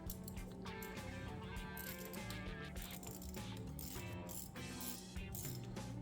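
A bolt is threaded by hand into the variable valve timing solenoid bore of a 2019-2025 Kia Soul, giving steady close mechanical ratcheting and clicking over a constant hum.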